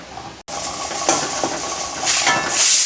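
Roasted grated coconut and onion being stirred in a hot pan for a Malvani-style alu fatfata, with a continuous dry sizzle and scraping clinks of a spoon against metal, growing louder and brighter toward the end.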